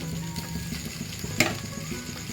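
Chicken fried rice with fried egg and masala stirred in a hot pan: a short stretch of soft sizzling and scraping, with one sharp clink of the utensil against the pan and no talking.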